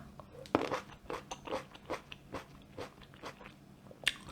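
Someone bites into and chews a sweet, crunchy tomato up close, with a series of wet crunches and smacking chews in an uneven rhythm and no speech.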